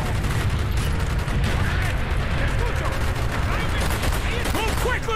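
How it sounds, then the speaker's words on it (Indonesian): Shotgun blasts and other gunfire in the Call of Duty Black Ops game, loud and sustained, with repeated sharp reports layered over a continuous busy background of battle noise. "Ini shotgun apa sih? Kok kayak mencar gitu pelurunya?"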